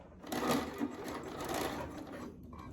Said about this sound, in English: you're gonna overlap that elastic